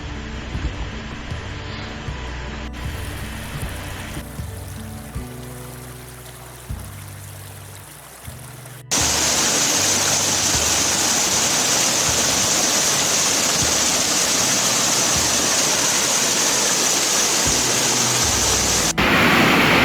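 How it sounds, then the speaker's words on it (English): Flowing water rushes in a steady, dense hiss, loud and close, after a quieter, murkier stretch of lapping water at the start. "Stream is a body of water with surface water flowing within the bed and banks of a channel."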